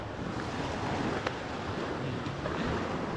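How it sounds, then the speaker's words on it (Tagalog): Ocean waves wash in continuously on a beach with a soft roar, mixed with wind buffeting the microphone; no one speaks. "yan na ang dagat."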